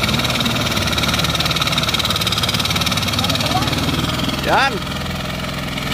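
A Pagong hand tractor, a turtle-style tiller, runs with a steady, loud mid-pitched engine drone that stays constant throughout, with a brief shout from a person cutting over it near the end.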